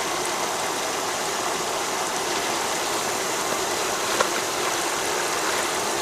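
Water rushes steadily through a homemade mini gold wash plant fed by a 2,000 gallon-per-hour pump, a loud, even splashing flow with no voices.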